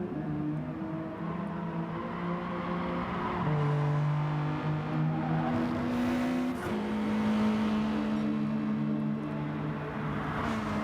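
A Hyundai and other race cars lap the Catalunya circuit in a racing video game, their engines whining steadily with pitch rising through gear changes, one car droning continuously up close while others blend in.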